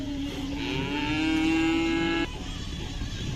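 A Khillar cow lets out one long, drawn-out moo, loud and close, that stops abruptly, leaving low background rumble.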